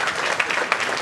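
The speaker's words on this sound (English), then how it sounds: "Let's give one more final big round of applause for all of our top readers." A school board meeting audience applauds top student readers, giving a steady, dense wash of many hands clapping, moderately loud and with no voices over it.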